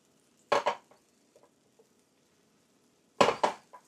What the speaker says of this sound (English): What I do is I pull the edges in, and I let the loose eggs kind of fold around the outside